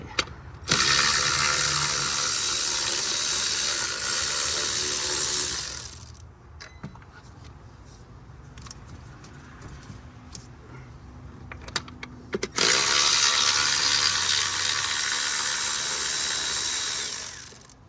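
Nuts come off a bracket on a Chevy Silverado, heard as two long, loud stretches of steady whirring from a powered ratchet, separated by a quieter gap filled with small metallic clicks and handling knocks.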